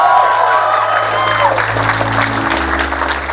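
Audience applause for a performing group, a loud, close burst of clapping mixed with cheers and whoops, layered over sustained low musical tones and a humming background.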